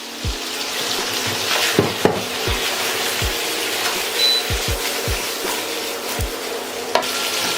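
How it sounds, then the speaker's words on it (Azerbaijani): Seasoned liver fries in oil in a pan with a steady close sizzle, broken by a series of sharp knocks and scrapes from a utensil stirring it. "ciyərə tuz istiyot və pul biber əlavə edirəm. Qəşəng yağa düşür."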